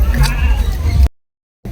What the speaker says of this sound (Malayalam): നല്ല സെറ്റപ്പ് വലിയ ചെമ്മരിയാടൊക്കെ ഉണ്ട്